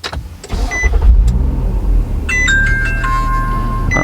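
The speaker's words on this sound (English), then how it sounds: "So let's see how it looks when I first start the car." A car starts up with a dash cam installed: a low rumble and engine turnover, followed by electronic chimes and beeps from the dashboard, close and fairly loud, with no speech.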